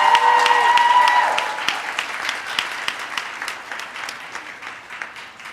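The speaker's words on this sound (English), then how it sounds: "Can we give them a hand clap today as well?" Graduation ceremony audience giving a hand clap, dense applause under a brief voice at first, then thinning into scattered, distinct claps that slowly taper off.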